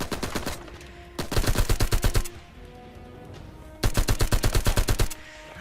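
Gunfire in the Uncharted 4 video game: two long bursts of rapid automatic shots, loud and close, separated by a quieter stretch of game ambience.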